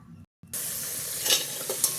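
Fennel seeds hit hot oil and ghee in an electric cooker for vegetable biryani: a brief pause, then a sudden bright crackling sizzle that swells slightly, close and alone.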